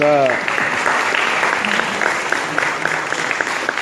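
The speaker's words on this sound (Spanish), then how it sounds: "un aplauso, pienso, del auditorio" Steady applause from an auditorium audience at a pediatrics medical lecture fills the clip, dense clapping following a brief spoken phrase in Spanish at the start.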